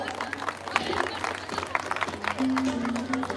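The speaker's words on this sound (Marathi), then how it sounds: "त्यांच्यासाठी सर्वांनी टाळ्या वाजवून द्या." A crowd applauding at a public gathering, steady clapping running under someone speaking over a loudspeaker.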